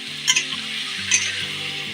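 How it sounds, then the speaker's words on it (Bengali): Onions fry in oil in a wok, a steady soft sizzle broken by a couple of brief scraping stirs from a spatula, close and with no voices. "এবার এর মধ্যে কড়াইতে তেল দিয়ে পেঁয়াজটা ভেজে নিচ্ছি"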